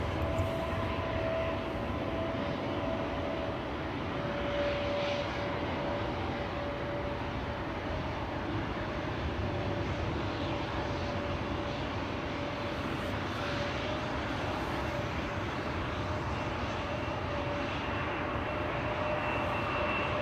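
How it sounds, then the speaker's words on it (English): A KLM Embraer 175 at Schiphol Airport gives a steady, broad roar that holds at an even level throughout, fairly distant, with no talking. "We have KLM Flight 1303 to Gdansk up next. That's an Embraer 175."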